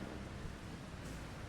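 Rain falling in the farming game Farming Simulator 25, a steady, faint hiss with a low rumbling undertone like distant thunder, brief and without speech.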